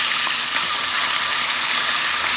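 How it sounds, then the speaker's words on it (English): Fish frying in oil inside a pot, a loud, even, continuous sizzle with a bright crackling hiss throughout and faint stirring, close by and with no speech. "Look how beautiful that fish looks inside this pot. So I'm just going to move it a little bit, and then I'm just going to cook it."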